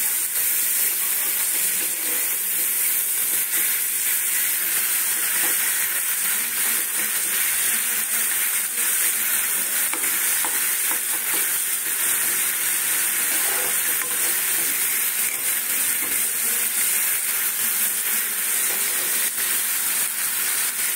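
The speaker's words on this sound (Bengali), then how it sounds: "মশলাটাকে একটু ভাজার জন্য একটু জল দিলাম, অল্প জল দিলাম।" Masala spices frying in a pan with a splash of water while preparing an egg and potato dish, giving a steady, loud, continuous sizzle and hiss throughout with no voices.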